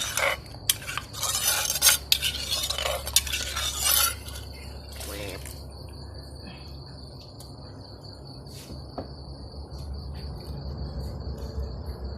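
Stirring a pot of fish curry broth for khanom jeen, made with pounded mackerel and chili, with clinking scrapes and sloshing in the first few seconds over a steady chorus of crickets outside.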